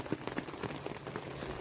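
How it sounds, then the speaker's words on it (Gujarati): Rain falling outdoors on surfaces, a soft steady patter of drops heard alone at low level over a brief moment. "વરસાદ આવે છે"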